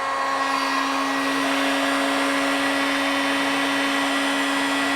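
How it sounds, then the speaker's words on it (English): A hot air gun blows steadily while heating the plastic around a rusty screw on a Golf Mk4 wagon, a loud, continuous fan whine with a constant tone and no pauses. "I've used this trick a few times, is with a hot air gun, and just heat up the plastic"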